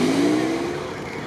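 An off-road K5 pulls away through swampy mud, its engine droning steadily with a rising rev tone, close and loud for a brief moment with no talk.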